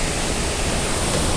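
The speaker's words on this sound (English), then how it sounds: "Look at the white water here, it's just like blowing over the road almost" Swollen Zeballos River white water rushing over a road during rain-on-snow flooding, a steady, dense roar without breaks, loud and close, with no voices.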